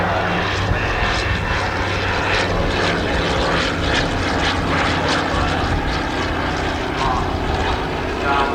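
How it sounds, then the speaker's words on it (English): A 1940 Douglas DC-3 propeller airliner with its engines running, a loud, steady droning roar that continues throughout with no break. "Danny, this airplane actually came off the production line in 1940"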